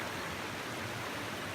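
Steady rushing of river water flowing past the spillway of an old mill site in Glasgow, a continuous broadband wash with no talk.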